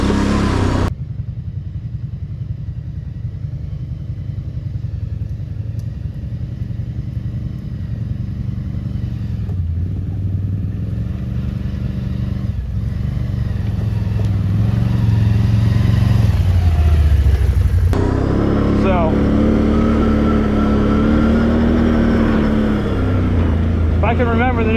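A Can-Am Renegade 1000 quad ridden along a trail, its engine droning steadily and rising in pitch as it accelerates, with clattering over rough ground and wind noise throughout.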